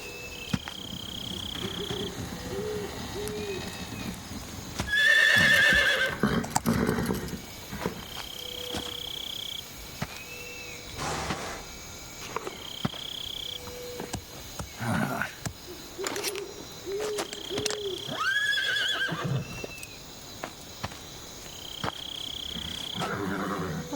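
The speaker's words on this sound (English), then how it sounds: "What was that horse sound?" Amid a busy Metal Gear Solid 3 game soundscape with ambient tones and thumps, a horse whinnies briefly near the middle, then another neigh follows later.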